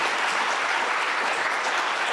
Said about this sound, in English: Another round of applause to Her Excellency, the First Lady of the Republic of Kenya